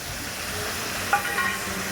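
Mustard paste hitting a hot frying pan, a soft steady sizzle with a brief scraping stir midway, close and fairly quiet.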